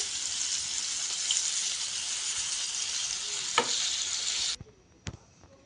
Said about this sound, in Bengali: দেখুন মাছগুলো ভাজা হয়ে আসছে